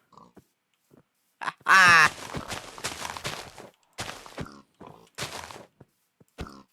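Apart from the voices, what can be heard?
pig oinking in video game Minecraft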